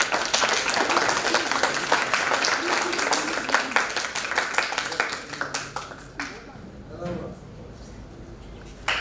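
An audience at a student talks event applauds as a 15-year-old speaker is introduced. Sharp, close, rapid clapping builds into a dense burst, then thins into a few scattered claps and dies away.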